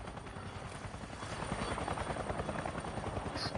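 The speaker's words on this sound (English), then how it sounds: "This is a big site, and that is a helicopter as well." In the PS5 video game Avatar Frontiers of Pandora, a helicopter flies nearby with a steady, rapid rotor thumping. The thumping grows somewhat louder partway through, and no one speaks over it.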